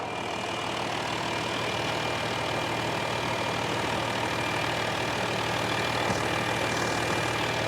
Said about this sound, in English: All right, so we've got the car running.